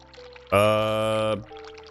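Tap water pours into a sink in the video game The Cat Lady, a short, loud steady gush of under a second that starts and stops abruptly, over quiet background.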